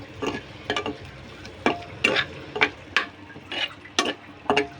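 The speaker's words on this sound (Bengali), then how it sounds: "এই যে আলুটা লবণ আর একটু জর্দা মিক্সড করে ভেজে নিচ্ছি" Potatoes fry with salt and food colouring for a beef biryani, with a spatula scraping and stirring in steady, evenly spaced strokes over a low sizzle, close and clear.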